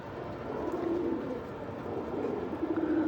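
Pigeons, including a down-shape hen, cooing in a loft: soft low throaty coos repeated a few times at close range over a faint ambient background, with no talking.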